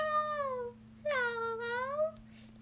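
A cat meows twice at close range, the first call drawn out and the second rising then falling, both fairly quiet over a steady low electrical hum.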